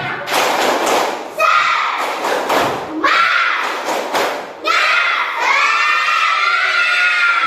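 Schoolchildren in a classroom chant and clap together in loud, rhythmic bursts, with sharp group claps and shouted syllables repeating in several energetic waves close by.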